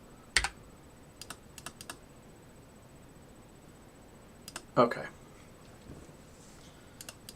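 Sparse computer keyboard keystrokes during game development, a few isolated clicks and short bursts spread apart, moderately close, with a brief spoken word partway through.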